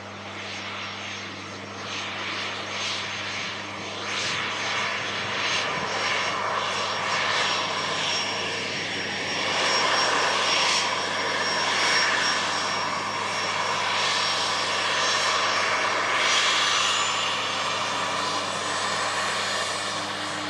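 An EasyJet airliner crossing over to runway 23 left for departure, its engines giving a steady distant roar and whine that swells slightly and holds for about twenty seconds, with no talk.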